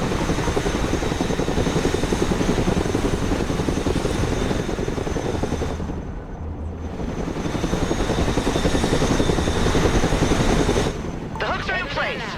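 A cargo helicopter in the video game Broken Arrow: steady rotor roar and whine drones on for several seconds, dips briefly, then continues loud and close.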